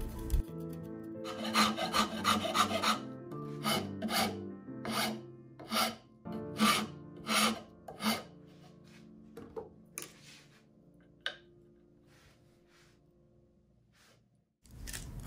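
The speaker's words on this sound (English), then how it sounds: "Find the spots that are snagging and rasp them down." A wooden arrow magazine is rasped down by hand, with a series of close, rhythmic rough strokes that slow and thin out toward the end before a final scrape.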